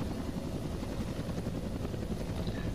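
An AH-1W Cobra attack helicopter in a military video game gives off a steady, dense rotor and engine roar that stays loud and unbroken throughout.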